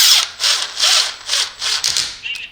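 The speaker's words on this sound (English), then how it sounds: "Tighten these down." Screws being driven down on an explosion-proof LED light fixture with a power driver: five or six loud, close, whirring bursts with brief pauses between them, no talk.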